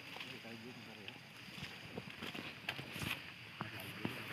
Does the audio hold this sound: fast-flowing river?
yes